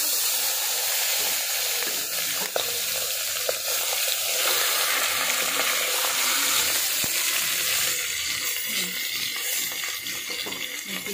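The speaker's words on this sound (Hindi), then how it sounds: "अब हम कीमे को थोड़ा सा लाइट फ्राई कर लेंगे" Washed minced meat (keema) fries in a pot over onions for biryani, a loud continuous sizzle with crackles and occasional stirring scrapes throughout; no talking.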